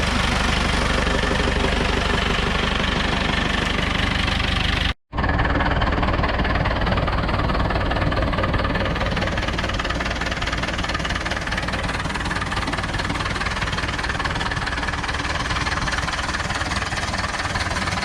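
Ursus C360 4x4 tractor diesel engine idling steadily close by after a regenerated turbocharger was fitted, a loud continuous knocking rumble with a brief cut partway through.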